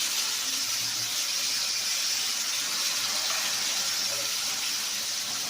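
Water poured into a pan of cooking soybeans and pointed gourd, a continuous hissing gush and sizzle at close range, steady and moderately loud, with no one talking over it.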